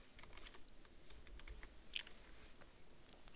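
Quiet, rapid keystrokes on a computer keyboard as a file name is typed into a save dialog, soft irregular clicks continuing throughout.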